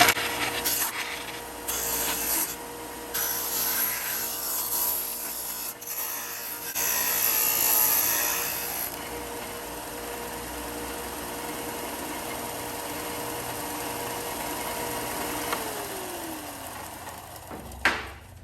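A Bauer 4 in x 36 in belt and 6 in disc sander runs with a steady motor hum while a 2x4 is pressed against it, rasping and rubbing in bursts, then winding down near the end.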